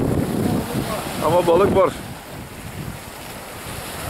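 Strong wind buffets the microphone over waves at Kadırga bay, a steady rushing roar throughout, with someone speaking briefly in the middle.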